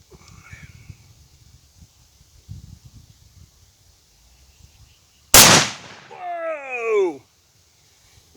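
A single sharp 22-250 rifle crack hits a can of chicken noodle soup outdoors, a loud close blast after quiet rustling, followed by an excited shout.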